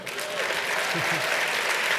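A large audience gives a dense, sustained ovation at a public conversation event with a president, swelling slightly and holding strong, with a brief voice faintly audible beneath it.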